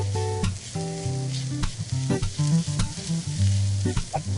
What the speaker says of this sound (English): We're going to let that cook for 3 to 5 minutes or so. Let these onions get even more cooked.